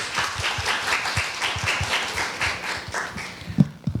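Audience applause welcoming a speaker at a university speaking contest, a modest room of clapping hands in a steady patter that thins out toward the end.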